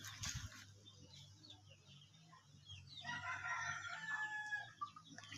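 Chickens on a family yard in the Philippines cluck steadily at close range, joined by a rooster's crow that rises and carries in the second half.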